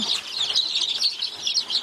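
High, thin peeping of young turkey chicks kept for sale on a poultry farm, a continuous chorus of overlapping chirps, close and fairly faint, with no talking.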